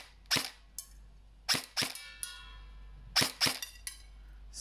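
A VFC M4 Avalon Calibur CQC airsoft electric gun fires a run of sharp, snappy single shots in uneven pairs and singles, loud and close, with no talking over them.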